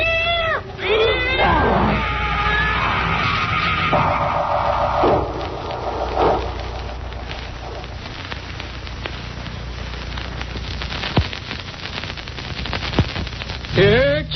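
A cat meows in a spooky radio drama, several cries at the start and again at the end, set against a foggy outdoor scene with layered effects and background sound.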